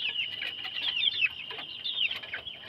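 Chickens cluck steadily at a coop whose enclosure was damaged by a predator, with several birds calling in quick overlapping bursts at moderate, close-range volume and no talking.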